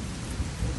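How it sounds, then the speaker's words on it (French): Steady rain falls in a dramatized scene outside a hospital, a continuous close wash of broadband hiss and patter that lasts the whole short moment without pause or speech. "La pluie n'aide pas, ce n'est pas bon."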